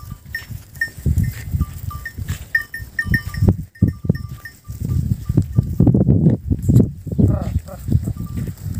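A grazing herd of more than a hundred sheep and goats bleats repeatedly and close by, overlapping calls scattered through the stretch while someone talks beneath them.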